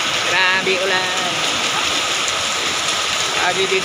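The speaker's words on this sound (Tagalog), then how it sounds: "Grabe ulan." Heavy rain pouring in Tacurong, a dense, constant hissing wash that fills the whole stretch, with people talking over it.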